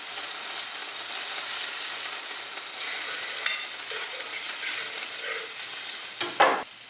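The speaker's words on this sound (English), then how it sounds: "you're just gonna cook this until the garlic is sizzling" Garlic and crushed red pepper sizzle steadily in hot oil in a pan, with a light hiss throughout and a few scraping stirs near the end.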